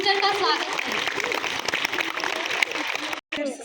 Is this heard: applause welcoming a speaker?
yes